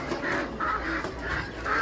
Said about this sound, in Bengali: বিশাল বিশাল হাঁস